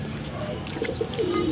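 A one-eyed blue bar pigeon coos in a loft, its low, soft calls rising near the end of a short, close stretch.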